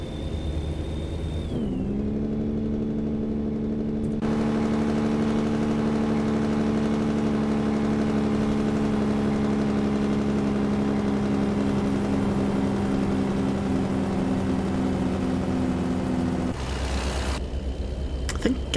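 A Caterpillar diesel engine in a heavy truck in American Truck Simulator runs at a steady, loud idle, its deep rumbling drone holding even for most of the stretch, shifting in tone near the start and again near the end.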